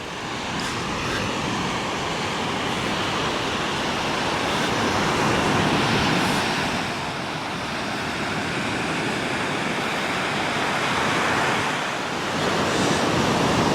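Sea waves wash steadily onto a sandy beach at Cala Millor, Mallorca, a continuous broad surf roar mixed with gusty wind noise on the microphone. No voices are heard.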